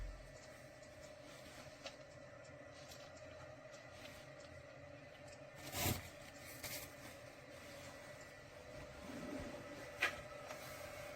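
A 3D printer prints a gas turbine engine model with a steady, low mechanical hum. Faint clicks and a couple of brief knocks sound through it.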